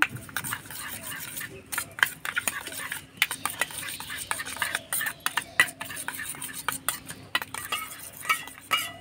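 Sugar, chaat masala, black salt and white salt being mixed in a bowl with a spoon, a quick run of close, rhythmic scraping and clinking strokes against the bowl.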